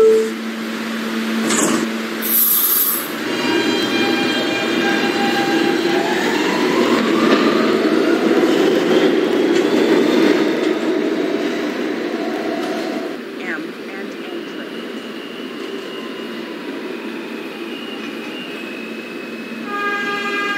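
A Q Express subway train rumbles and whines as it pulls out of the station, with a brief horn toot and rising motor tones, loud and close, under occasional announcements.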